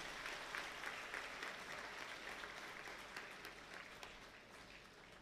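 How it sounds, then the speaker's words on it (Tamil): An audience at a comic speech event gives a round of clapping to see off a guest; quiet, steady, distant-sounding applause that slowly tapers off. "அவருக்கு நம்மளால் ஒரு கைதட்டு கொடுத்து ஐயாவை அனுப்பிச்சிடலாம்"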